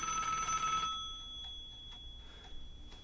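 An electronic telephone ring sounds briefly, then cuts off, leaving faint ticking and a steady high tone over a quiet background.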